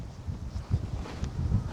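Wind blows outdoors, producing soft low gusty rumbles against the microphone that swell and fade in irregular puffs, fairly faint, with no clear talk.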